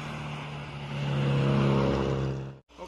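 Two intercity buses race each other on the Trans-Sumatra highway in Indonesia. Their engine roar swells as they pass close by, holds loud, then falls away and cuts off abruptly near the end.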